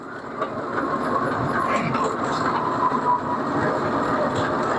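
Steady rumbling train noise of wheels rolling on rails, continuous and fairly loud throughout, with a faint rhythmic clatter.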